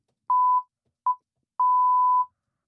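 Three pure electronic censor beeps, short, shorter, then long, sound loud and clean against silence.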